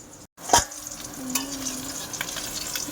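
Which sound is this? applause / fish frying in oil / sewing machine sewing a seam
fish frying in oil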